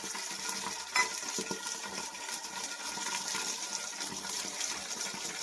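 Water tempering with sugar for dhokla cooks on full flame, a faint steady bubbling sizzle with soft stirring scrapes and one brief louder splash near the start, no talk.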